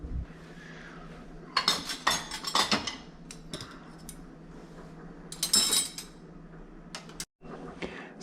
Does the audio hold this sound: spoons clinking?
yes